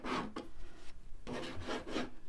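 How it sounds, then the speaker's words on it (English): A tool scrapes paint back off a mixed media artwork in close, rasping strokes, with two bursts separated by a short pause. "now after we added all that paint in, we're gonna go back in and scrape some away."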